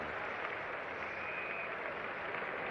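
Cricket crowd at a 1973 England versus West Indies Test match applauding as batsman Boyce departs after scoring 72: a steady, dense wash of clapping and crowd noise that holds at an even level throughout, with no clear voices standing out.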